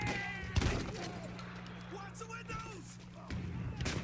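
A shotgun fires in a first-person shooter game, with a few sharp blasts spaced over several seconds over steady background game hum, while a player talks.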